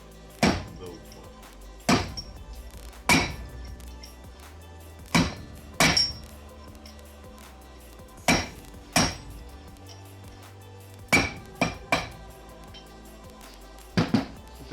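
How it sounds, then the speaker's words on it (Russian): Hammer blows drive a rear wheel bearing for a Daewoo Sens or Lanos into its seat, about a dozen sharp metallic strikes in irregular pairs and singles, close and loud against a quiet workshop background. "Таким же образом забиваем второй подшипник."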